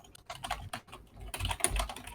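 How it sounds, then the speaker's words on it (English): Quick, continuous typing on a computer keyboard, with dense close clicks in rapid bursts that grow busier toward the end, and no voice. "Sorry if you can hear my keyboard."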